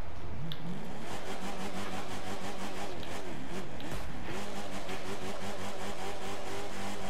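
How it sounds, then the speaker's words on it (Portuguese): A Chevrolet Camaro ZL1's powerful V8 engine revs repeatedly, climbing and dropping in pitch with a loud, throaty roar in The Crew 2 racing game audio. "Vamos escutar o motor dele aqui"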